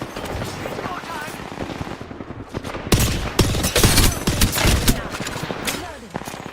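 Rapid bursts of automatic gunfire in a shooter video game, loud and overlapping in a dense fusillade with short gaps between volleys, while voices call out amid the shots.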